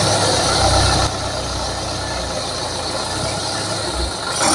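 A restored Chevrolet engine with an in-line pump runs on a bench, a loud, steady mechanical drone with a rattling, ticking texture that dips slightly partway through and swells again near the end.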